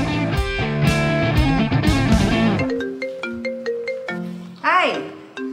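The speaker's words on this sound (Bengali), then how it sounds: "হ্যাঁ ফোন বাজছে, ধরছিস না" A mobile phone ringtone plays a loud melodic tune indoors, first a dense musical passage and then a repeating series of bright electronic tones, with a short sweeping sound near the end.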